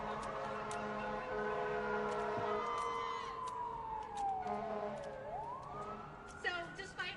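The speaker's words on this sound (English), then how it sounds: "I'm gonna pause for the sirens." Emergency vehicle sirens pass outside during a street gathering, a loud wailing tone sweeping steadily down in pitch as they go by, then rising again near the end, with crowd noise and voices underneath.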